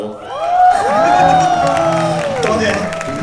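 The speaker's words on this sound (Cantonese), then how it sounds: "多謝你哋嘅掌聲" A school concert crowd cheers, whoops and applauds loudly, with children's shouts in a steady, close roar that holds for a few seconds.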